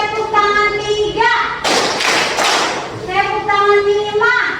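Several sharp bursts of hand clapping in a classroom, loud and close, clustered in a counted rhythm between stretches of a teacher speaking.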